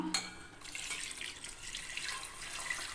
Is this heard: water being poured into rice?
yes